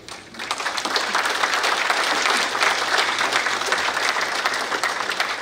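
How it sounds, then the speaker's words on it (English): At a veterans' dinner social in North Reading, Massachusetts, the dinner audience applauds Gold Star families in a loud, dense, steady round of clapping that swells and holds throughout. "let us give a great round of applause and appreciation"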